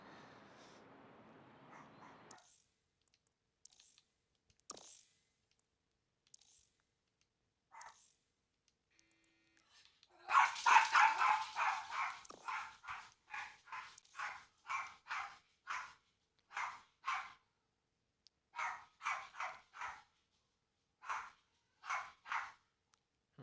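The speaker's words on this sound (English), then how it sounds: "Sorry my dog is barking" A pet dog barks repeatedly at close range in a home during a live gaming stream, starting with a few scattered barks and then a long run of loud, evenly spaced barks with no talking.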